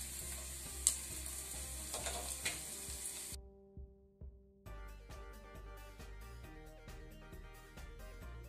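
Curry leaves and a cut dried red chili tossed into hot oil for radish thoran, a close crackling sizzle with a brief quieter gap, then resuming steady frying with light ticking clicks.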